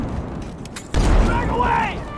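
A frag grenade detonates in Battlefield 6 on the Hagental Base map: one sudden loud boom about a second in, then a rolling rumble, with game voices calling out around it.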